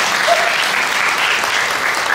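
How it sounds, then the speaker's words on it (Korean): Wedding guests in a wedding hall applaud the groom during the ceremony, a loud, dense wash of clapping from a large crowd that holds steady from start to finish. "다시 한번 신랑님께 박수 부탁드리겠습니다"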